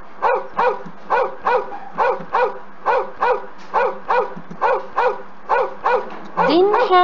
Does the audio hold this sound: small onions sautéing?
no